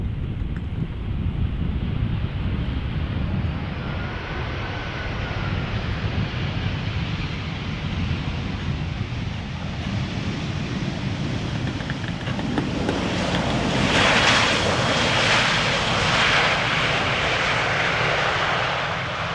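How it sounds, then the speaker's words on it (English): A Boeing 737 airliner arriving from Copenhagen lands at Schiphol Airport, its engine roar loud and steady throughout, swelling near the end as it passes close, with wind buffeting the microphone. "737 from Paris and a 737 arriving from Copenhagen. The one from Copenhagen will be landing on the runway center."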